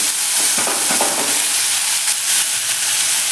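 Grated sweet potato frying in ghee over medium heat, a steady loud sizzle with scraping stirs and light clatter as the shreds are turned, no voices.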